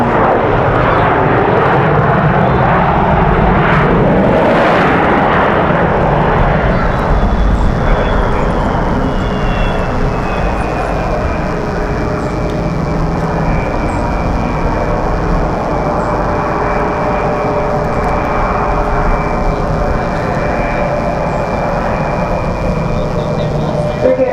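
An airliner arriving at Raleigh-Durham International Airport gives a steady, loud roar with a high engine whine that holds throughout, and faint voices sound underneath.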